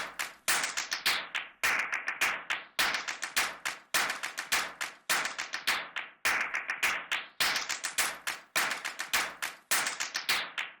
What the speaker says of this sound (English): We also have a version of the claps that has an LFO on it.